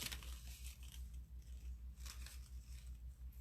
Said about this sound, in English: And then we'll just cut off a little snip